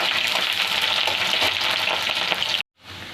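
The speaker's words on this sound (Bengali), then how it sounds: "তো দেখুন পেঁয়াজটা লাল লাল করে ভাজা হয়ে গেছে" Chopped onion and whole garlic cloves fry in a pan for Bengali bhuna khichuri, a loud, steady, dense sizzle with faint stirring scrapes that cuts off abruptly near the end.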